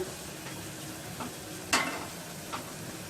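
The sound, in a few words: onion pieces frying with salt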